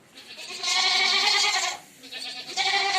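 Goats at a sheep and goat livestock market bleat close by, one long wavering cry followed after a short pause by another rising bleat, loud and clear.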